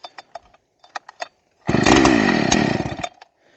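Close chainsaw pull-start in the woods while clearing fallen beech trees: several short rasping cord pulls, then the engine catches and roars loudly for over a second before cutting out.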